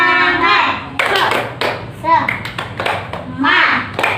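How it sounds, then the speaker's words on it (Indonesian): Primary school children in a classroom doing a rhythmic clapping chant, short bursts of claps in a patterned beat alternating with children's chanting voices, close and loud. "mari kita tepuk semangatnya mana? Tepuk Semangat."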